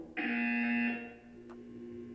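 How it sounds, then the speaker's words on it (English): Buzzer in the Portal 2 video game, a single loud electronic tone held for just under a second, then a faint lingering hum with a brief click. "When you hear the buzzer, look up at the ceiling."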